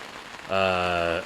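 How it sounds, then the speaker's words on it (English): Heavy rain comes down outdoors as a soft hiss, joined midway by a loud, sustained tonal hum that lingers to the end. "The rain's really coming down."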